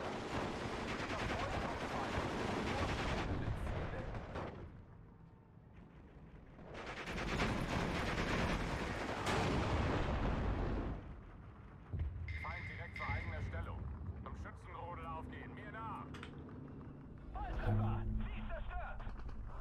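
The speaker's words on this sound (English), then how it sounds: "Especially if they run into that mortar fire." Mortar fire and explosions in the World War II strategy game Steel Division 2, heavy rumbling booms in long loud waves with quieter gaps holding scattered distant shots and game effects.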